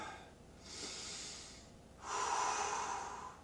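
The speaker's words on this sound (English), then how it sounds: "This is also a good exercise for deep breathing" Deep breaths during exercise, a long noisy inhale and a stronger exhale, heard close and alone with no talking.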